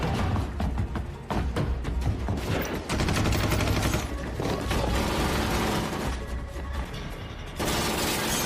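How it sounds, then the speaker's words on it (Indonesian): Dense gunfire rattles through a shootout scene in the film Tracers: rapid loud bursts and overlapping shots, with mechanical clatter and booms under a constant, heavy din. "Mereka pun melakukan aksi tembak-tembakan dan kejar-kejar."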